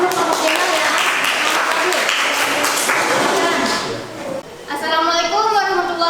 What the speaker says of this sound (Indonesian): Kita beri aplaus dulu untuk kelompok Jainal ya.